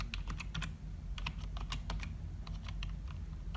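A password is typed on a computer keyboard in quick, irregular bursts of light clicking keystrokes, close and fairly quiet, with short pauses between groups of keys.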